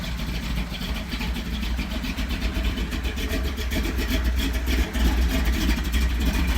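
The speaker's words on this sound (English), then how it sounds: "My 1987 C10's got a 355, bored over 30, got a comp cam, new lifters" A 1987 Chevrolet C10 pickup with a bored-over 355 V8, Comp cam and new lifters runs steadily nearby, a continuous low rumble with a slightly lumpy idle and no talk over it.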